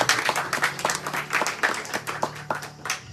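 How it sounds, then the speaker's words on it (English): An audience at a Hindu mandir gathering gives a short round of applause, close and brisk, with the claps falling into a quick, rhythmic pattern throughout. "Give them a round of applause"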